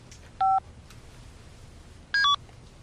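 A cell phone number being dialed, with two short bursts of clear keypad tones separated by a quiet pause over a faint low hum.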